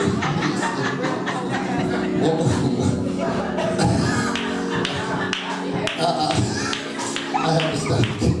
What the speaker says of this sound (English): He started clapping loud.